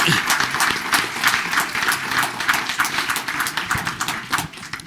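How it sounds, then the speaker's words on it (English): Clapping from the audience at a township committee meeting, a sustained room-wide round of many hands at an even level with faint voices underneath, tapering slightly at the close. "So let's clap for that."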